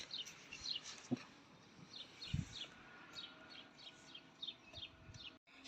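Small birds chirp and tweet repeatedly at a lively spring outdoor market in Uşak, Turkey, with animals around, the calls light and scattered over a soft background murmur and occasional thumps.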